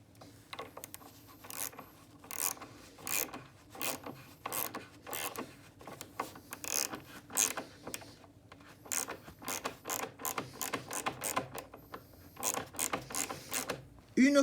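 A bolt fitted with a nut and washers is unscrewed from a threaded insert set in wood, giving a run of quick ratcheting, clicking metal turns in close, irregular bursts with brief pauses, no talking.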